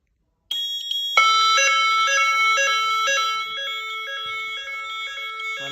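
A building fire alarm sounds during a general evacuation test, a steady electronic tone joined after a second by a loud repeating multi-tone alarm pattern that keeps ringing without pause, with no talk.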